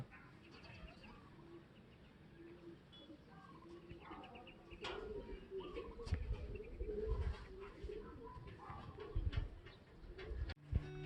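Racing pigeons cooing and fluttering as they arrive at the loft during training, amid outdoor background noise, with occasional wing flaps and faint voices in the distance.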